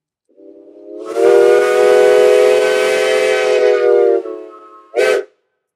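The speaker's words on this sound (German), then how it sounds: "Jetzt haben wir tatsächlich eine Fünftonpfeife gehört, die wir uns digital rekonstruiert haben." Digitally reconstructed five-tone steam locomotive whistle of the BR 10, a loud rich chord that swells in, holds steady for about three seconds, fades, then gives one short final blast.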